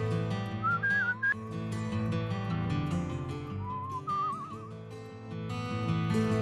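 A character in the video game Where The Water Tastes Like Wine whistles a wavering melodic tune over a bed of background music, with brief whistled phrases coming and going.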